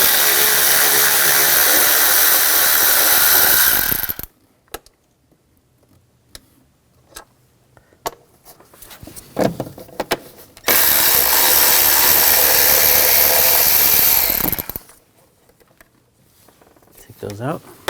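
A ratchet with a 10mm socket removes bolts on a 2000-2006 BMW X5 3.0L inline-six, heard as two bursts of loud, dense rapid clicking, each followed by quieter scattered ticks and handling noises.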